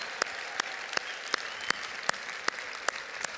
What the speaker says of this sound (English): Let's give them a big round of applause for helping us build homes and change lives.